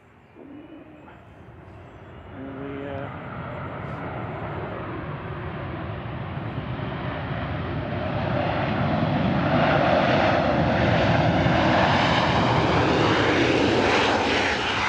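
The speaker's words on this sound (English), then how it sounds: "This is Ryanair flight 7545 coming in from Barcelona, a 14-year-old 737-800" A 14-year-old Ryanair Boeing 737-800 arriving at Manchester Airport from Barcelona roars as it approaches, its jet noise swelling steadily louder over the whole stretch with a broad, rushing whine.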